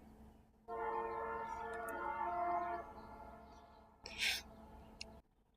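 A train passing and sounding its horn, a sustained chord-like horn blast of about two seconds, followed by rumbling and a brief sharper screech, moderately distant and without talk.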